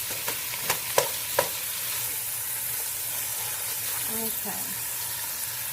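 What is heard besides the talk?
chili frying and being stirred in a pan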